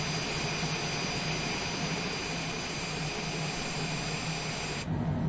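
Jet engine of a Longitude business jet in Microsoft Flight Simulator spooling up on start, a loud steady whine with high tonal lines over a broad rushing roar, holding evenly before the upper tones drop away near the end.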